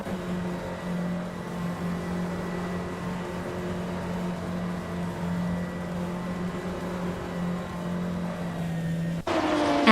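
Engine of a 2011 Lola B1180 HPD race car in a racing video game, a steady sustained drone held at constant pitch, then cut short by a sudden shift near the end.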